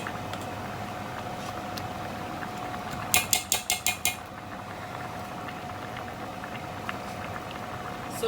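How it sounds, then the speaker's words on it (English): Cassava leaf with peanut butter boils steadily in a pot, a constant soft bubbling hiss with a brief run of five metallic clinks from a utensil partway through. "So we leave it to boil the cassava leaf on its own, like 10 to 15 minutes."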